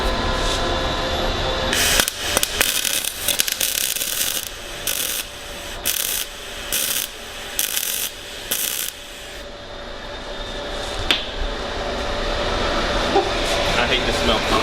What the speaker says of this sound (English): now I can put a tack on it and then move on.